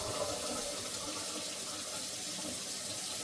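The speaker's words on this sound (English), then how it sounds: "I should be washing it with hot water or cold water." Rice being rinsed under a running kitchen tap, a steady hiss of water splashing into a sink that carries on evenly and close by for a few seconds, with no one speaking.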